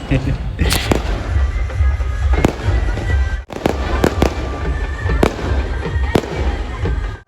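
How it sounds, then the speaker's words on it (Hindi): Fireworks burst repeatedly with sharp cracks and booms over a constant rumbling roar, loud and close, with irregular spacing between the bangs. "और अब यहाँ पे आतिशबाजी भी शुरू हो चुकी है।"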